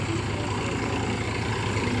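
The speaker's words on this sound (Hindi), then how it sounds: "सामने से ट्रैक्टर आ रहा है।" A tractor comes along a road toward the listener, giving a steady, loud, low engine rumble that fills the whole moment with no talk.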